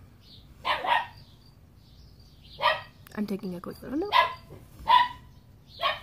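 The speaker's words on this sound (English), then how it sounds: "That's my dog in the background." A dog barks in short sharp bursts, a handful spaced irregularly in the background, while someone speaks briefly between them.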